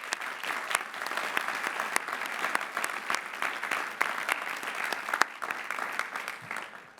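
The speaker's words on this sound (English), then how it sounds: "Please recognize the master's degree recipients with our hearty congratulations and applause." Sustained audience applause at a university commencement ceremony honoring master's degree recipients, a dense steady wash of many hands clapping from a large crowd for several seconds.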